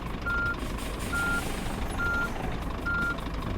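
Truck reversing alarm in the On the Road truck simulator game: four steady, evenly spaced beeps over a constant low engine rumble, fairly loud and close, with no talking.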